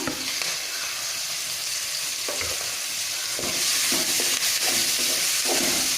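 Onion, green chilli and curry leaves sautéing in oil for a fish curry, a dense, close crackling sizzle that swells louder midway, with scraping stirs throughout.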